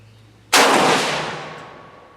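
A single loud, close shot from a Spanish M1916 rifle converted to 7.62 NATO, firing outdoors, cracks sharply after a quiet moment and then decays in a long rolling echo.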